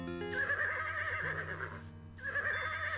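Horse whinnying in the video game Conquests of the Longbow, a synthesized game sound with wavering, repeated neigh-like tones that break off briefly and resume, loud and steady over a sustained musical drone.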